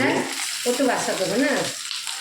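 Green cauliflower sautéing in a pan with mustard seeds, onion and curry leaves gives a continuous soft sizzle, with a voice speaking briefly over it midway.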